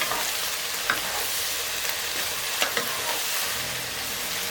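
Long eggplant stir-fries with a little water in a pan for a vegetarian basil dish, a steady close sizzle broken by occasional spatula scrapes and knocks, with no voices.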